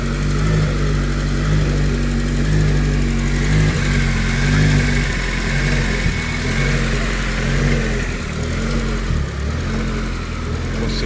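A Honda K20 engine runs steadily after being fired up, a continuous close idle with a mid-pitched hum and slight irregular surges throughout, no talking.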